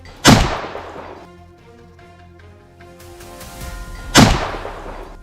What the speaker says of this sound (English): The sound of gunfire rang out.